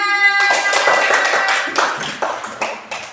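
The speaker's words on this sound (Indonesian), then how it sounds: "Tepuk tangan dulu untuk kita semua." A classroom of children clap their hands together in a quick burst. The claps are loud and close, start after a brief tone, and turn into separate, uneven claps that taper off.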